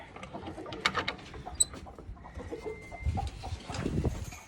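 A black Jersey Giant hen clucking in short bursts among other farmyard noises, with a louder, busier stretch of low clucks toward the end.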